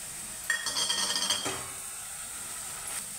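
Spices going into chakvat gargat in a pan, with a burst of metallic clinks and scraping stirs that fade into a faint, quiet background.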